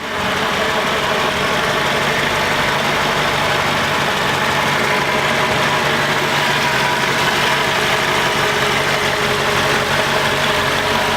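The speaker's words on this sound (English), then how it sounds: "you can kind of hear the car has a rough idle" A Mercedes C55 AMG engine idles roughly and steadily, close up, with an uneven low rumble and faint knocking throughout, no voices; the car has an alternator charging fault.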